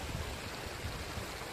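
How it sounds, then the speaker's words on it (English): A monsoon-fed waterfall on a trek to a living root bridge in Meghalaya produces a steady, broad rushing roar of flowing water, even and continuous and heard from a moderate distance. "when I went to check it, near to it, it's actually a waterfall"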